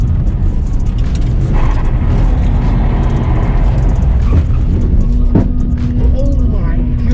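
A BMW 530i E34 at a drift event, its engine droning steadily and revving hard through a clutch kick, loud and close throughout with a sharp burst near the end, as people talk over it.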